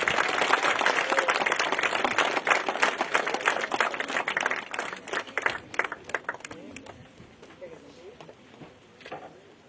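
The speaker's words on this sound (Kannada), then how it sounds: "ತುಂಬು ಹೃದಯದ ಚಪ್ಪಾಳೆಯೊಂದಿಗೆ ಸ್ವಾಗತವನ್ನ ಕೋರುತ್ತಿದ್ದೇವೆ" Audience applause greets a guest at the closing ceremony of a university sports festival, a dense, loud clapping that tapers into scattered claps by the end.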